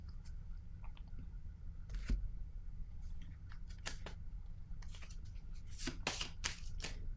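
Tarot cards handled and laid down during a reading, soft papery shuffles, slides and crisp taps, irregular and close over a low background rumble.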